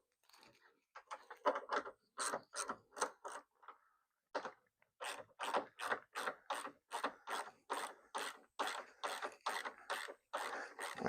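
A ratchet wrench tightens the hood bolts on a 1970 Challenger. It makes close, crisp clicking in bursts of quick strokes, with a short pause between sets.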